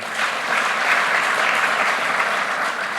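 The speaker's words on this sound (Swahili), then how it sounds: "Tuwapigie makofi jameni" A crowd at a Kenyan presidential event claps steadily and loudly for a few seconds, a dense, sustained round of applause with no voices standing out.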